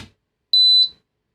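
A dishwasher control board gives a single short, high-pitched electronic beep once, clean and piercing, after a moment of quiet.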